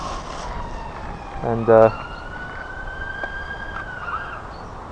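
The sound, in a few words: ambulance siren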